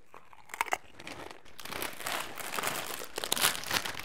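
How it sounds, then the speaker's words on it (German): Sour Cream Pringles chips being eaten close up, with crisp crunching bites and a rustle of packaging running through the whole stretch, loudest near the end. "Ich esse jetzt erstmal einen Chip, Sour Cream Pringles."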